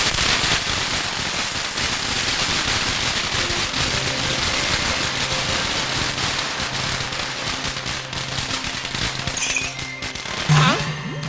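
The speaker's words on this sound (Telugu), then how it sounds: "నాకు ఈ టపాసులు అంటే కొంచెం భయం." Firecrackers burst in a dense, loud barrage of crackling pops through a Telugu comedy film scene, with a brief sharper bang near the end.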